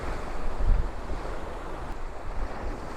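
Ocean waves surging against the old stone pier at St Monans, a low rumbling wash with a heavier thump early on, mixed with gusty wind buffeting the microphone, no talking.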